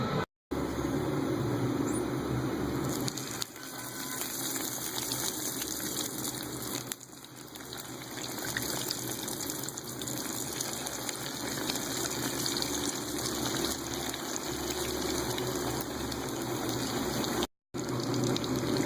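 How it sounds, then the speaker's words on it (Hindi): Kebabs stuffed with chutney fry in a pan, giving a loud, continuous sizzle and bubbling that runs steadily close up with no speech. "अब हम इन्हें फ्राई करेंगे।"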